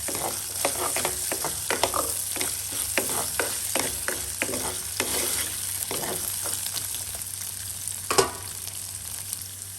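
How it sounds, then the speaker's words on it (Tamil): Jackfruit seeds sautéing in a pan, a constant sizzle broken by repeated scraping stirs in an irregular rhythm, heard close up with no voices, one louder clatter near the end. "கொஞ்சம் மண்டதால இப்படியே போட்டு நம்ம வதக்கலாம்"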